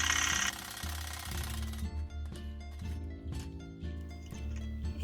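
A sewing machine stitching a mekhela, the Assamese wraparound garment, runs in steady rhythmic bursts of mechanical whirring and clatter, with brief pauses between runs and no talk.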